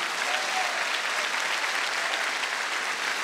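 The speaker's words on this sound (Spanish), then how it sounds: "vamos, dale ese aplauso" Dense, continuous applause from a church congregation, loud and evenly sustained throughout, with a faint murmur of voices mixed into the clapping.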